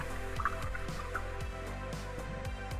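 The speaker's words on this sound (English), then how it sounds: "I'm going to rinse my brush off" A paintbrush swished and tapped in a water cup during a painting session, giving soft, quick liquid splashes and drips in an irregular rhythm, close and fairly quiet with no talking.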